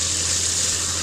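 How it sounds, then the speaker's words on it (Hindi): Water pours steadily into a cooking pot to make rice, a continuous close gushing stream with a faint low hum underneath and no talking. "अब इसमें मैं पानी शामिल कर रही हूँ।"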